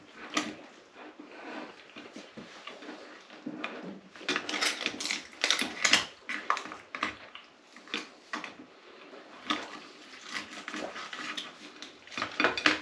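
A knife cuts through a cooked lobster tail on a plate, giving irregular close scraping and clicking as the blade and shell meet, with bursts of sharper clatter among quieter pauses.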